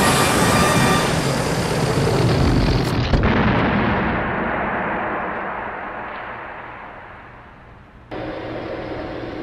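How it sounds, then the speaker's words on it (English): A film villain swelling up from a swallowed compressed air pellet and then bursting, heard as a loud, roaring explosion that slowly dies away over several seconds, followed by a sudden burst of renewed rumbling noise at the end. "Kananga swallows a compressed air pellet and blows up like a balloon before exploding"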